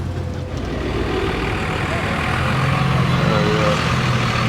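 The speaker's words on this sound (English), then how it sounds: "Cummins 24 valve." A Cummins 24 valve diesel truck engine rumbles at a low steady idle nearby at an outdoor car and motorcycle show, a continuous deep chugging drone with faint background voices.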